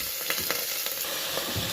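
Fried cauliflower and potatoes sizzle in a pan as they are stirred, a continuous close hiss with a few soft scraping strokes, no speech.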